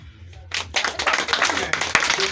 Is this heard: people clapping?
yes